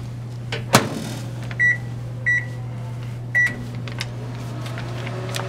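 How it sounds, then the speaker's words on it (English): A microwave oven hums steadily while heating marshmallow Peeps, its low drone running throughout, with a door clunk early on and three short electronic beeps spaced apart. "Place a Peep, or a few, whichever you prefer, in the microwave for approximately 20 seconds."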